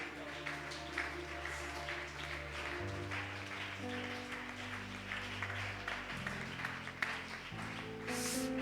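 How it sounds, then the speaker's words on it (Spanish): Congregation applauding during an evening youth church service, a steady wash of clapping throughout with sustained organ or keyboard chords playing underneath. "Denle un aplauso al Señor en esta noche."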